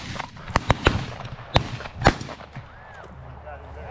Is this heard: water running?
no